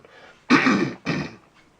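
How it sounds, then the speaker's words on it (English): Someone clears their throat twice in quick succession, close and loud, with quiet before and after. "I gotta clear my throat."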